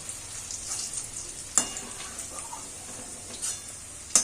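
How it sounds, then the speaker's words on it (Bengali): Onion and capsicum fry lightly in hot oil in a pan for a Bengali potol chingri dish, a steady close sizzle broken by two sharp stirring clinks. "আমার এই পেঁয়াজ আর ক্যাপসিকাম ভাজা হয়ে গিয়েছে"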